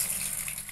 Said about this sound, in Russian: Включается душ с водой.